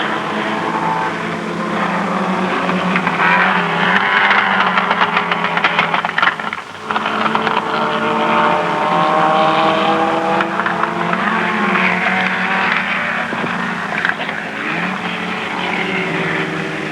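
Race cars lap fast around a racing circuit, their engines forming a continuous loud roar with rising and falling pitch as cars pass and shift, heard steadily throughout with no talking.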